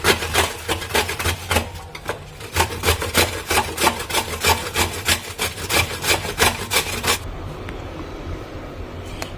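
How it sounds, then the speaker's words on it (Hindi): A coconut is scraped against the coarse side of a grater in a steady rhythm of loud, close rasping strokes, about two per second, that stop near the end and leave faint quiet. "इससे मैं नारियल को घिसूंगी।"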